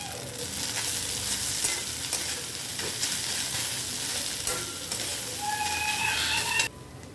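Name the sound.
boiled fish stirred into fried onions in pan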